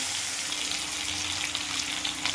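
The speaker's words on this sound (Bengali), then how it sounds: "দেখো কড়াইতে দিয়ে দিয়েছি, এবার হালকা করে ভেজে নেবো, বেশি ভাজবো না চিংড়ি মাছগুলো" Shrimp fry lightly in a wok for a malai curry, giving a quiet, steady hiss of oil that runs without a break, faint and alone.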